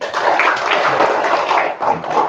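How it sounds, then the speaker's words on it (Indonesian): Children in a classroom clap their hands together, a dense, steady patter of many claps close by that fills the whole moment without a break. "Oke, tepuk tangan."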